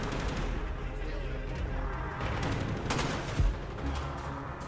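Bursts of rapid gunfire rattle through a Call of Duty Black Ops firefight, loud and continuous with one heavier blast, while voices shout over the shooting.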